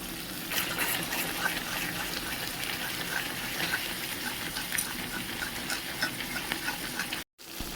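Water poured into a cooking pan of spiced vegetables, a steady close gushing and bubbling wash that runs continuously and breaks off briefly near the end.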